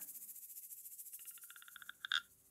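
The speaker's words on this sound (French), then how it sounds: "Écoute la grenouille." A frog croaks in a quick series of rhythmic calls, the notes speeding up and growing louder before a final burst, amid faint insect-like trilling.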